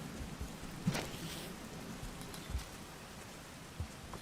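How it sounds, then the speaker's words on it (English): Heavy rain in the Rain World video game, a dense steady hiss of downpour with a few faint low thumps scattered through it, no voices. "This rain, when it's heavy, it's still not dangerous."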